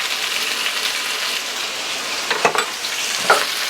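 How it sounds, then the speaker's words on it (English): Garlic, ancho peppers and bay leaves sizzle loudly in a pan, a constant crackle broken by a few sharp scrapes and clacks from stirring. "Give this a nice stir."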